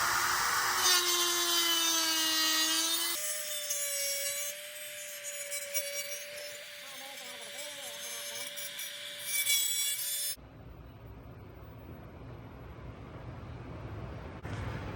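A router trims TIG weld beads off aluminum with a loud, continuous high whine and scraping that shifts in pitch for about ten seconds, then cuts off, leaving a quieter hiss.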